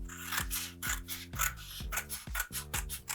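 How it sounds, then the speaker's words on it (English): Scissors cutting out homemade paper greeting cards, a close, steady series of rasping snips in a quick repeating rhythm with no talking. "Once I've done that, I'm going to cut them out."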